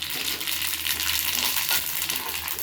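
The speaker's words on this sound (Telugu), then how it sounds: "ఇప్పుడు ఆయిల్ వేసుకొని నూగులు వేయించుకుంటున్నా." Sesame seeds frying in oil in a pan over a low flame, a steady dense hiss and crackle that runs on without a break and stays close and fairly loud.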